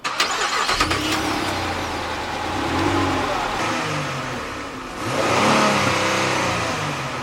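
Car engine revving to about 3,000 RPM in a 2015 front- or rear-wheel-drive full-size sedan, a steady mid-pitched drone that rises, dips briefly and swells again, close and loud with no talking.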